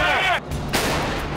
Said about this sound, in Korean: 드디어 고화사 포반의 사격